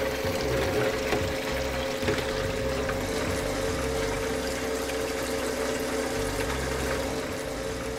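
A drink cooler spins a can in ice water, giving a steady, close motorized whir mixed with sloshing, churning water that runs continuously and evenly throughout.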